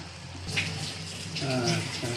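Water is poured into a pot of mutton curry seasoned with coriander powder, ginger-garlic paste and chili powder, a soft gushing splash rising midway, with faint talk near the end.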